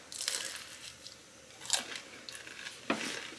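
Someone bites into crispy spring rolls, with a few sharp crunches close to the mic separated by quieter chewing in a quiet room.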